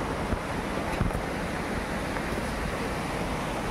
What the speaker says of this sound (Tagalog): Ayan na po, tanaw na yung falls.